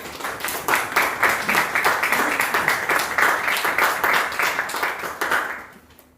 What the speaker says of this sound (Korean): 여러분들 큰 박수로 환영해 주시면 고맙겠습니다